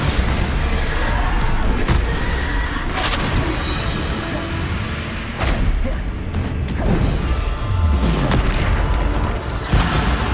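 Bombarda spell blasts in Hogwarts Legacy, a steady run of loud booming explosions and crashing impacts through dense battle noise, with several sharp hits spread across the stretch.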